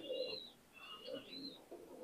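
A high flyer pigeon at a home loft gives soft cooing calls with a few faint chirps, in short separate phrases close by, over quiet background.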